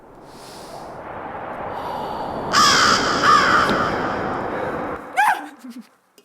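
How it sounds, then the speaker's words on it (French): Québec winter birds call outdoors: a few harsh crow caws stand out over a soft rushing background, with a close breathy snort-like sound near the end. "On va mettre une belle petite trame sonore d'oiseaux hivernaux québécois."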